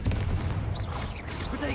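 Confringo blasting spell cast in the Hogwarts Legacy video game, heard as a dense booming burst amid constant loud combat noise, with a brief whooshing sweep near the middle.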